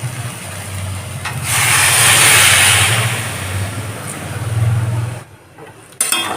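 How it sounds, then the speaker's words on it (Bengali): Mixed vegetable curry boiling hard over a high gas flame, a loud steady hiss and bubbling roar with a low burner rumble underneath, swelling in the middle before cutting off near the end. "আর গ্যাসটাকে এখন হাই ফ্লেমে করে দিয়েছি তরকারিটা ফুটতে শুরু করে দিয়েছে"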